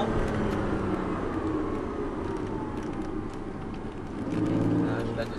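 A rally car engine drones steadily with harmonic tones, swelling louder near the end as it works under load, while a voice talks over it.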